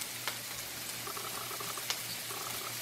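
Onions and peppers fry in a hot pan for an omelet, a soft continuous sizzle with faint bubbling and a couple of light clicks, quiet and without talk.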